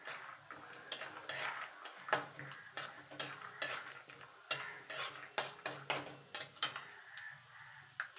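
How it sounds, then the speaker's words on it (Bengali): Peanuts fry in hot oil in a wok while a utensil stirs and scrapes them in a steady rhythm of quiet strokes over a faint sizzle. "এবার বাদামগুলো ভেজে নেব।"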